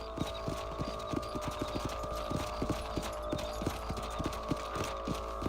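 Horse hooves clip-clop at a steady walking rhythm in the Western game Red Dead Redemption, many evenly spaced soft thuds over a constant low hum of ambient background.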